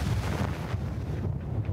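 Strong wind of about 50 km/h buffets a racing monohull offshore in the Vendée Globe fleet, a steady loud low roar with gusty rumble and spray-like hiss running throughout, no voices.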